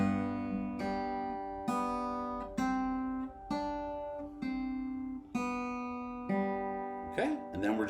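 On guitar, a melody is picked with the first finger and pinky: about eight clear, ringing plucked notes at an unhurried, even pace, each left to sustain, closing with a brighter strum-like flourish. The playing is close and moderately loud, with no speech.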